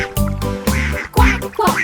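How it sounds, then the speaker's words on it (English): A cartoon duck in a children's counting song quacks several times in quick succession, loud and close, the nasal calls overlapping with barely a pause between them. "Quack, quack."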